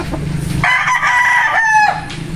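A pure Sweater-line gamefowl rooster of a red gamefarm line lets out one loud, close crow lasting over a second, preceded by low clucking and surrounded by faint farmyard background.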